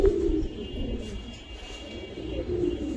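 A female Giribaz pigeon gives soft, low cooing close by, a few murmured coos over faint background hiss.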